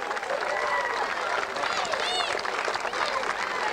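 Crowd applause and cheering at a World's Strongest Man sumo challenge, a steady dense wash of clapping from a large audience, continuous at moderate level throughout, with faint whistles and voices mixed in.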